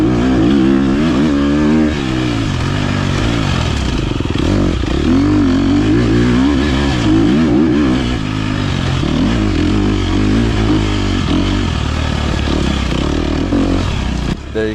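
An off-road race motorcycle engine roars at close range while riding a grass track during a Gnarly Nutmeg A250 race, loud and continuous with constant revving and shifting pitch.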